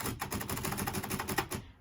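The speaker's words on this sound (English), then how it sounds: "the keys seem to work, and the carriage moves with each strike" Keys of a Royal typewriter striking in a fast, even run of sharp clacks, close and clear, stopping abruptly near the end.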